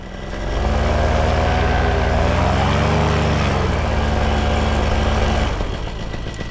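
A paramotor engine running loud and close, rising quickly to a steady droning roar that shifts pitch slightly mid-run and then drops back toward idle near the end.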